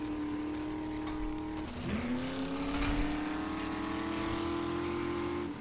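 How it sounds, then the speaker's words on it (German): A distant car engine in the video game 7 Days to Die drones steadily with a shifting pitch, rising and settling, heard alone without talk. "Ich höre ein Auto in weiter Ferne."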